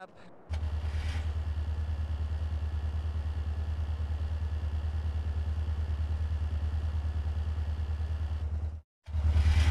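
A motorcycle engine from Grand Theft Auto: San Andreas, during the bike school mission, starts up and settles into a steady, loud, buzzing idle with a low pulsing rumble for several seconds before cutting out abruptly.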